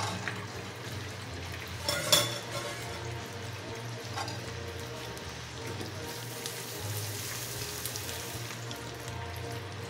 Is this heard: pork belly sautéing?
yes